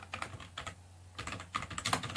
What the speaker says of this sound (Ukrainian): давайте за допомогою функції input введемо власне пелюстки з клавіатури